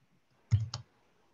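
A computer mouse clicks twice in quick succession, sharp and close, while someone works in software, with near silence before and after.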